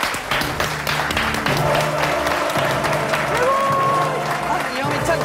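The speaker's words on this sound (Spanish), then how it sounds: "despedirte con este tremendo aplauso" TV studio audience applause on a Chilean game show, a loud sustained roar of clapping with crowd voices and talk over it.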